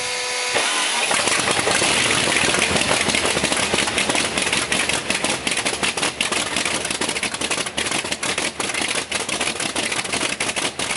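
A Vedeneyev M14P radial propeller aircraft engine cranks and catches, then runs loud and close at a rough, rapid idle, its firing pulses clattering steadily throughout.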